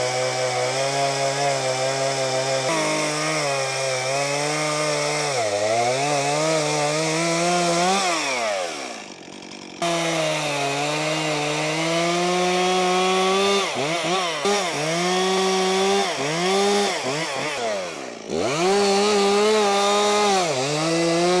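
A chainsaw mills a log into boards with a loud, steady engine drone close by. The pitch sags and recovers as the bar bites the wood, with two brief drops to near silence partway through.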